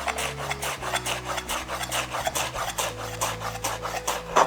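A knife thinly slices onion on a cutting board for bitter gourd sambol. About a dozen steady, rhythmic rasping strokes are heard up close, with no talking.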